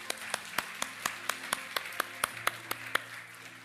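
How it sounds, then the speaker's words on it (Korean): A church congregation claps in steady unison rhythm, about four claps per second, fairly soft and moderately distant, with a sustained tonal backing underneath. "우리 하나님께 감사와 영광의 박수를 드리겠습니다"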